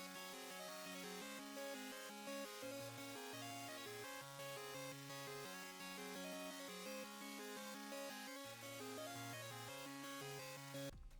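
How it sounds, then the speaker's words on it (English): A Squared Squares Synth lead melody in FL Studio plays on its own, bright square-wave notes stepping through a repeating tune at steady volume. "the sound is called Squared Squares Synth"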